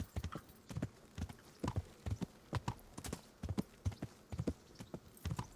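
Horse hooves clip-clop in a steady, even rhythm across a meadow road in the medieval game Kingdom Come: Deliverance, each hoof strike crisp and close, continuing without pause.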